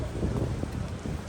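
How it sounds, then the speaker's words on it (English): Gusting wind roars through an unglazed greenhouse frame under construction, a steady, loud rush with low rumbling buffets close to the microphone and no talking. "Wow, it's windy in here."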